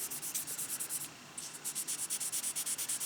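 Rhythmic back-and-forth wet sanding of a 1/24 or 1/25 scale model with sandpaper, a bright wet scratchy swish repeating quickly and evenly, with a brief pause partway through.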